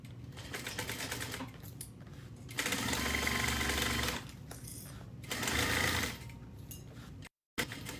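A sewing machine stitches a seam in quick, steady mechanical bursts, with pauses of softer hum in between, close and fairly quiet.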